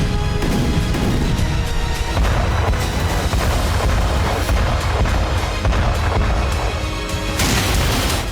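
A massive FAB-3000 high-explosive aerial bomb detonates, a heavy continuous roar of blast and rumble filling the whole stretch with deep booming low end and crackling debris, loud and sustained throughout.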